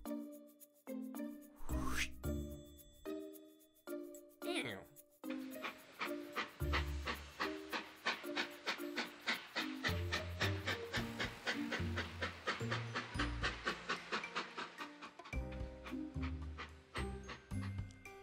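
A cartoon train sets off in a children's educational animation, with a whistle toot and then a steady, rhythmic chugging that pulses over a bright, jingly music track for a long stretch.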